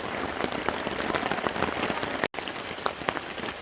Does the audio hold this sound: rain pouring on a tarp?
yes